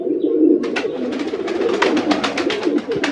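Pigeons of Kaldoma, Nazra Kaldoma and Chini Kaldoma breeds coo steadily at a loft, a dense low murmur of many birds close by, broken by a run of sharp rustling flaps and clicks.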